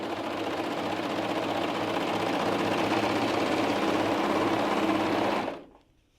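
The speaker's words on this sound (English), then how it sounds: "I was able to just go ahead and serge off the edge" A bernette b68 serger sews a 5-thread overlock seam along a fabric edge, a loud, steady mechanical whir for over five seconds before stopping abruptly.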